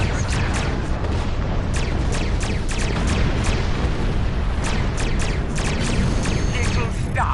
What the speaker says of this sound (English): Press the R2 button to fire energy weapons.